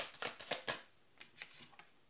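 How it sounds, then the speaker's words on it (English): Oracle cards shuffled by hand: a quick run of crisp, riffling slaps close up, followed by a few lighter flicks and taps as cards are pulled, with no talking. "we're going to pull some oracle cards for love"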